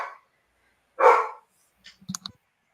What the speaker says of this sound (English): Is that your girlfriend's dog? The big one.